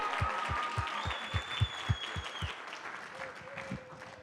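Sparse applause for a Mirror Ball trophy winner at a chamber of commerce lunch, a modest crowd clapping in a quick rhythm that fades out over a few seconds while faint sustained tones run underneath.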